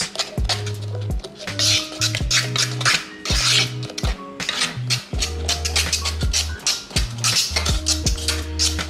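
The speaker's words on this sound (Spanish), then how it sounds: "Y terminamos de mezclar nuestra torta." A spoon scrapes and clinks steadily against a bowl while banana and oat cake batter is mixed by hand, rhythmic close scraping strokes with no talk.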